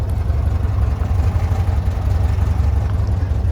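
Close and loud, the engine of a Sand Pounder mini Mack car idles with an even low-pitched rumble that holds steady throughout, with no voices.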